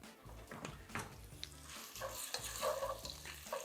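Colonial sausage sizzling and frying in a pan at the start of a pine-nut risotto, with steady crackling and occasional stirring scrapes, close and continuous with no voices.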